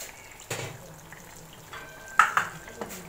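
Aloo keema cooks in a covered pan over medium heat: a faint low sizzle with a few soft clinks and knocks of a lid or spoon against the pan, close and quiet.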